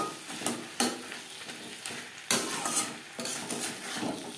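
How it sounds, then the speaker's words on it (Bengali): Spices fry over low to medium flame in a pan with a soft sizzle and stirring scrapes, broken by sharp clanks as about 150 grams of whole flat beans go in; close and fairly quiet, no speech. "তিন 4 মিনিট লো টু মিডিয়াম ফ্লেমে মশলা কষিয়ে নেওয়ার পর দিয়ে দেব শিম"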